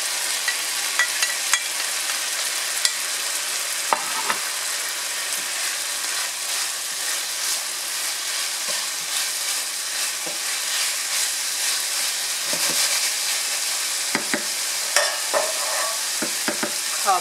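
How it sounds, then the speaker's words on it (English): Chopped mushrooms fry in a pan with a steady, close sizzle while a utensil scrapes and stirs through them in irregular clicks and knocks, continuous for the whole stretch. "Now let's add the chopped mushrooms."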